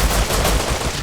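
Gunfire in the video game Rust comes as a quick burst of sharp shots, loud and close, filling the short moment without talk over it.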